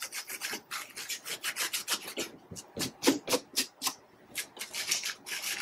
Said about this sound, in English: you just rub it as much as you want to fluff it.